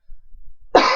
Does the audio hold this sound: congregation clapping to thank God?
no